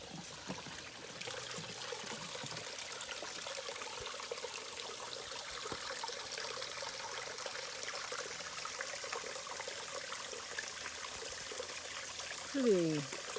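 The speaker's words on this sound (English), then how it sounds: "I hear a little waterfall." A small waterfall in a Texas national forest in summer gives off a faint, steady rushing hiss, distant and continuous, with a brief rising bird-like chirp near the end.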